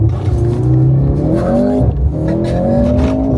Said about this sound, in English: I've never launched a car before, so I'm kind of stressed as well.